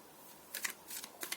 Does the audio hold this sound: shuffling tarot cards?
yes